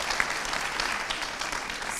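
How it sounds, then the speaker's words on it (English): Clapping from a public health session audience, a dense, even patter of many hands that stays fairly soft and steady throughout. "can we have a round of applause, please?"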